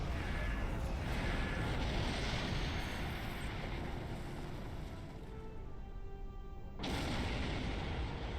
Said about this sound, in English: Pretty explosion.